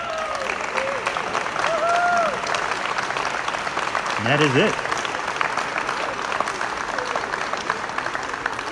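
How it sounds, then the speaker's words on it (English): Crowd at the 2023 Elders World Championship applauds steadily and cheers, with a commentator talking over the clapping and a whistle rising midway. "There's the crowd."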